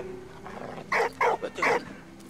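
A dog in Valiant Hearts barks three times in quick succession, clear and fairly close, over a quiet game background hum.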